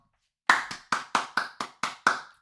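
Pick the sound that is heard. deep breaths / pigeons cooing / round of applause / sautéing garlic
round of applause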